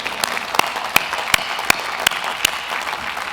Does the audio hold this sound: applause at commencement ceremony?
yes